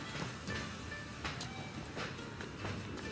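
Moving train rumbling along steadily in Assassin's Creed Syndicate, a continuous mid-level rolling noise with periodic clicks and bursts of combat sounds over it, no one speaking.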